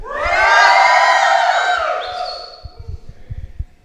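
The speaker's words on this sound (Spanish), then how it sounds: "pégale ahí un buen grito a ellos" A crowd at a game jam event in Mexico lets out a loud, sustained shout and cheer that peaks early, then trails off into scattered thumps and noise.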